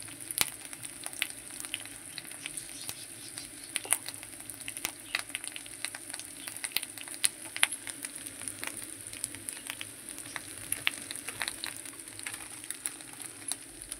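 Turmeric dropped into hot cooking oil, sizzling and crackling in a continuous close fizz with frequent sharp pops scattered throughout.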